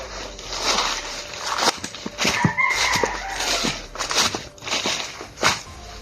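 Chickens cluck and a rooster crows nearby amid rustling and scratchy movement, with occasional footsteps in a busy outdoor yard in the Philippines.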